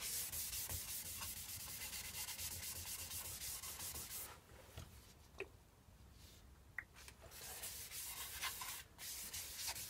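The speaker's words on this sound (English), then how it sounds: "So everyone knows what sanding is." Sanding a splatter-painted bowl finished in blue and silver metallic, a steady close abrasive rubbing that runs continuously, drops away briefly around the middle, then resumes just as loud.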